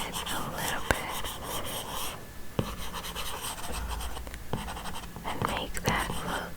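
An Apple Pencil erases across an iPad screen in Procreate with soft, repeated scratchy strokes and a few sharp taps, close and quiet, while a voice whispers throughout.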